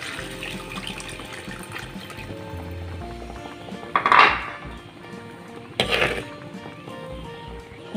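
Water is poured from a glass into a pan of simmering crab curry, giving two brief splashing bursts against a steady kitchen clatter of pots and utensils.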